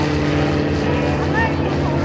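A steady, loud piston engine drone from liaison aircraft such as the L-4 and L-2 observation planes at an airshow, continuous and near, with an announcer speaking over it.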